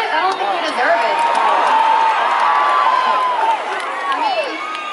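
A concert crowd at the Greek Theatre in Los Angeles cheers loudly for Texas, with sustained whoops, shouts and screams from a large audience filling the space throughout.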